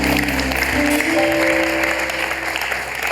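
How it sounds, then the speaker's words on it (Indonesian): Applause from a studio audience on a family talk show, a steady clatter of clapping mixed with sustained musical tones underneath, fairly loud for a few seconds. "tepuk tangan dong Mbak Tara"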